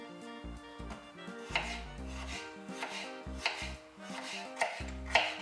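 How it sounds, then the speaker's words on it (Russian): A knife slicing potatoes into thin rounds on a board, with a series of crisp, close chopping taps and board knocks at an irregular pace. "Примерно на такие кружочки нарезаем картофель."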